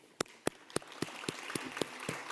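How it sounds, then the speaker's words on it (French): Sparse, evenly spaced claps from an audience at a formal congress session, sharp and fairly close over a low hum, with no voices. "que je vous demande d'applaudir."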